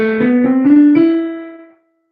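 A short run of soft piano notes climbing step by step, about five tones, ending on a held note that fades out.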